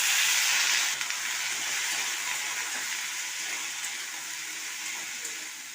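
Spinach with lentil-dumpling vadis frying in oil in a Bengali kitchen: a steady, fairly quiet hiss and sizzle that slowly eases off, with no talking.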